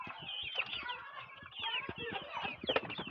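Chickens recovering from illness cluck busily and squabble while feeding, with a dense stream of overlapping calls and short squawks, close up and fairly loud throughout.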